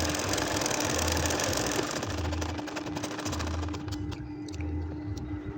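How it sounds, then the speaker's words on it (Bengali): An ordinary domestic sewing machine stitches a tara-phul nakshi kantha quilt, its motor whirring steadily with rhythmic bursts of running stitches in repeated short runs, close and loud throughout with no talking. "দেখেন আমি প্রতিটা খোপের মধ্য দিয়ে পাকা করে করে কিন্তু সেলাইটা করে যাচ্ছি"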